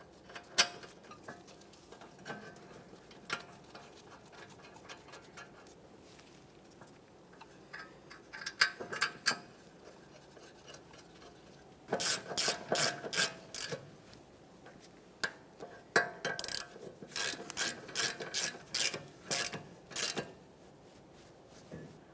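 A ratchet tightens the front brake caliper bracket mounting bolts on a 1994-1997 Honda Accord. Quiet rubbing and handling noises lead into two bursts of rapid, even clicking, heard close up with no voices.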